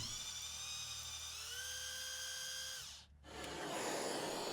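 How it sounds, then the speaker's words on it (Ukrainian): A small high-pitched drill whines steadily up close while drilling holes in brass tube, its pitch shifting slightly, then cuts out briefly before grinding on again. "Свердлимо три отвори."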